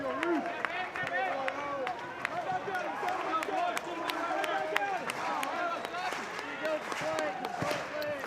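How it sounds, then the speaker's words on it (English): A baseball stadium crowd at an Arkansas versus South Carolina game keeps up a continuous roar of cheering and clapping beneath a commentator's voice. "Crowd trying to get back into this."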